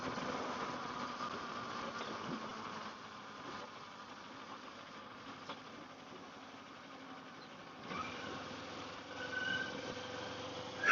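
A Kawasaki Ninja 500 motorcycle engine runs steadily while riding, a continuous buzzing drone with wind rush, easing slightly in the middle and rising again near the end.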